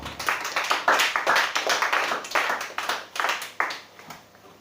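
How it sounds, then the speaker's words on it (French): A church congregation at a worship service claps in a dense, uneven burst of many hands, loud and close, swelling and thinning in waves without speech. "on acclame le Seigneur Jésus pour lui."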